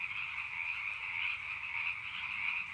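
Frogs croaking beside a stream outdoors, a dense, continuous chorus of trilling calls that rises and falls slightly, with a faint low rush beneath and no talking.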